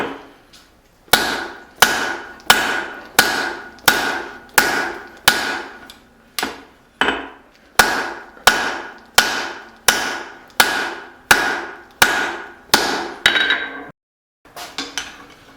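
Hot steel is hammered on an anvil to forge a hatchet bit: about sixteen sharp, ringing metallic blows land in a steady rhythm, loud and close, each decaying quickly, with a short pause before a final pair.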